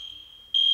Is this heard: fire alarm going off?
yes